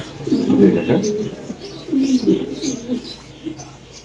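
Pigeons coo in low, rolling phrases at a Bangladeshi pigeon seller's loft, close and fairly loud, in two main bouts with softer cooing between and background chatter.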